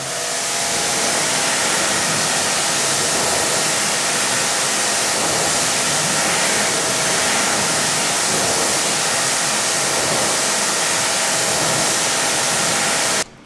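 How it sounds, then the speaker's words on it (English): A pressure washer with a green tip sprays a test car panel, a steady loud hiss of water blasting without a break for the whole stretch, close to the microphone, then cutting off at the very end. "I'm going to go ahead and hit it with a pressure washer. We'll be using a green tip for cleaning."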